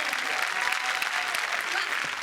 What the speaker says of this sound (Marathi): जोरदार टाळ्या पर्णसाठी